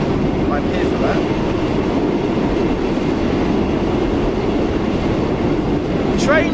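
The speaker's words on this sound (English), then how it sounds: "We've got enhanced tunnel sound as well that's been carried across to the 385." A Class 385 electric train in Train Sim World 4 on the Fife Circle line roars through a tunnel, with a loud, steady, enclosed rumble of wheels and a few faint high squeals.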